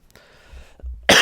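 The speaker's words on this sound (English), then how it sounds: "I use my hat to cough into, actually." A single loud, harsh cough from someone with a cold, close to the microphone, bursting out at the end after a quiet stretch with faint breathy sounds.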